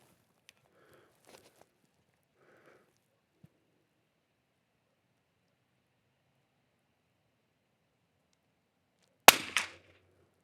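A single sharp sighter shot from a Super BRNO SAA 2500 rifle firing Eley match ammunition, loud and abrupt after a long quiet stretch, following faint handling clicks.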